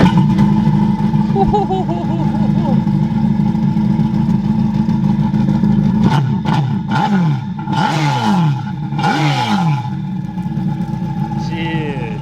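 A custom-built Yamaha four-stroke engine runs close and loud, a rough, throaty idle that breaks into several sharp revs and roars before settling back down.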